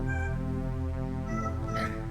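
A cat in a horror video game gives one drawn-out, wavering meow over a steady, droning background hum, close and fairly clear.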